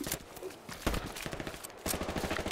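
Gunfire in the World War II shooter Hell Let Loose: rapid bursts of rifle and machine-gun shots crackling at mid distance, with a steady rattle that swells in the last second, and no clear voice over it.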